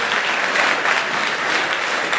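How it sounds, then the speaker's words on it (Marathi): Audience applause at a Jijau–Savitribai birth anniversary celebration, steady dense clapping from many hands throughout, with no voices over it. "शाबास, टाळ्या वाजवा"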